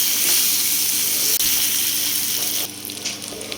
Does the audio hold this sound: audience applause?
no